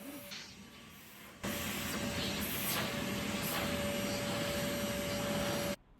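A LIGO 20V cordless wet and dry 3-in-1 vacuum cleaner starts up partway through with a steady, close whooshing suction roar and a thin whine, running evenly for several seconds before cutting off abruptly.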